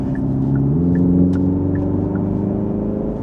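A 2025 Hyundai Ioniq 5 N electric car plays its synthetic engine sound while accelerating, a loud, close, rising growl with a rhythmic throb and faint ticking, heard alone.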